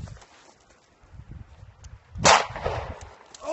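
A single sharp gunshot aimed at a bull elk cracks out loudly midway, its blast trailing into a rumbling echo over low outdoor background noise.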